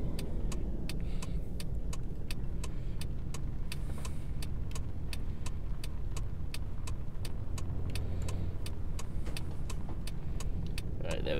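A taxi driving along in the video game Taxi Life, a steady low engine hum with road rumble and faint rhythmic ticking over it, no speech.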